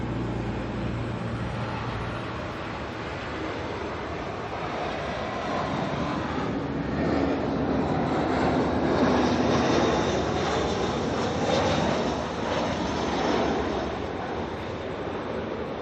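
A Jetstar Airbus A320 jet arriving from Queenstown at Auckland Airport gives a steady, loud broadband roar that swells gradually toward the middle and lingers without any break.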